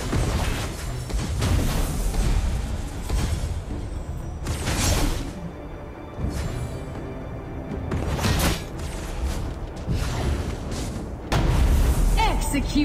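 Tower destruction in a MOBA-style battle game, heavy booming blasts and whooshing bursts rolling in repeated waves, loud and dense, mixed with in-game announcer voice lines.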